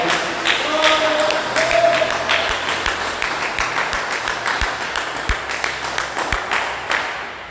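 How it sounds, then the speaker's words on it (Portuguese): A church congregation gives a round of applause, with clapping mixed with sharp individual taps and knocks, fairly close and lively, tapering into scattered claps toward the end. "dê uma salva de palmas para Jesus de bem alegre"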